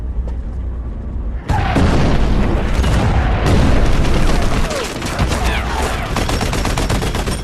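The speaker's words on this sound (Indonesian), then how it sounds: "Heldov langsung memerintahkan anak buahnya untuk menembaki Atami." Soldiers firing at a fleeing rider on horseback in a film battle scene, a loud sudden burst of dense overlapping gunfire and booms that continues without pause to the end, with no talk.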